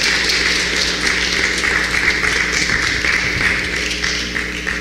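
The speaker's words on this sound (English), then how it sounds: "Please, again, just give him one more round of applause." Steady, loud audience applause at a national reparations convention, a continuous wash of clapping from a large crowd that holds for several seconds with a faint background hum.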